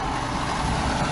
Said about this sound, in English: What a noisy truck.